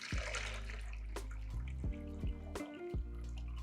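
Lemon ginger juice dripping from the open spout of a juicer, with a handful of distinct wet drips and plinks spaced about half a second apart, close but faint against a quiet background.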